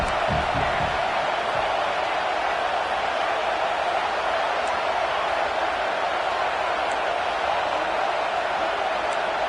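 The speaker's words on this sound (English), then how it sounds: "this crowd trying to help keep them there" A football stadium crowd keeps up a dense, continuous roar as the defense pins the offense deep in its own end, loud and unvarying throughout.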